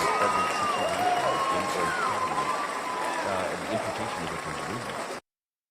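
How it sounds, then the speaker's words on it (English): Loud, continuous applause from a large crowd fills the whole stretch at a steady level, with voices faintly audible through it, then cuts off abruptly near the end. "the clip is buried under loud applause noise"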